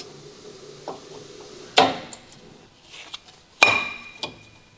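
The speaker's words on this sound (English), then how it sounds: "Align the slots and install the new brake pads." Metal brake pads on a 2010 Honda Civic (8th gen) being clicked into the caliper bracket slots: two sharp metallic clinks stand out over faint handling noises, close and with no voices.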